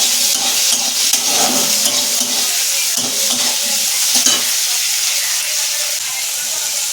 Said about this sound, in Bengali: এই ছোলা ভাজা করছি, তার মধ্যে তেল দিলাম।